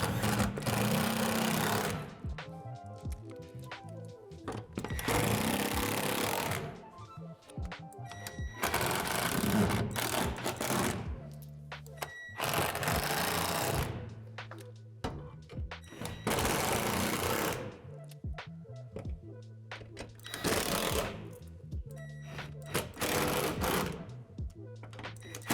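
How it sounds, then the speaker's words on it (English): A power drill drives screws to fix a shelf to brackets inside a Lifetime 10 x 8 outdoor shed, in several loud, whirring bursts of a few seconds each separated by short pauses, close by. "Secure the shelf to the brackets using 2 screws each."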